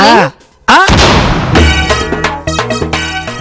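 A single loud gunshot cracks out in a Telugu TV drama scene, followed by swelling dramatic music after a brief hush.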